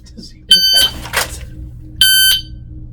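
Two sharp electronic shot-timer beeps, each about a third of a second, sound close and loud during a concealed-carry draw drill, with brief muffled talk or movement between them.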